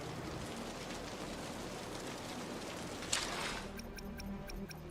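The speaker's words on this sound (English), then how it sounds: "The rain's getting heavier." Heavy rain in Wuthering Waves, a dense steady patter and hiss of falling drops throughout, with a brief sharper splash and faint ticking tones near the end.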